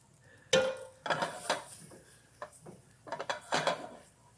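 Canned tomatoes, a 28-ounce can's worth, being stirred in a pot on the stove, with a few scraping knocks of a utensil against the metal sides in irregular bursts, fairly close and with no talking.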